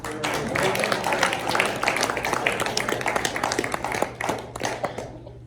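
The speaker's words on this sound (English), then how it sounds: "Let's give her another round of applause." Applause from an audience after a speech at a campus talk event, dense overlapping claps sustained throughout, fairly loud and close, with some voices mixed in before it thins out at the end.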